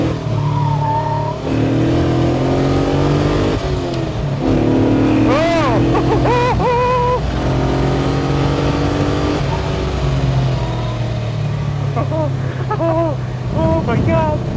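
An LS V8-swapped BMW E46 wagon accelerates on a track, its engine droning loudly from inside the cabin through rising and falling revs with gear changes, while the driver talks excitedly over it.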